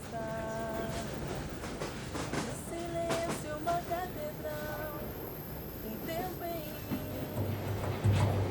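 Train in Brazil heard faintly, a low continuous rolling rumble with brief tonal squeals and chimes, and a slightly louder surge near the end.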